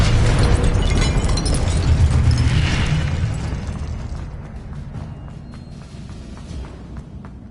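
Incendio fire spell explosion in Hogwarts Legacy, a loud sustained roaring burst with mechanical rattle that gradually fades over several seconds.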